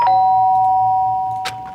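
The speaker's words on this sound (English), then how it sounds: "Sharp sound of a doorbell pierced my sleepy haze and pulled me back to the real world." A doorbell chimes in the video game Danganronpa: Trigger Happy Havoc: one loud, sustained electronic ding tone rings alone and fades out, with a short soft click near the end.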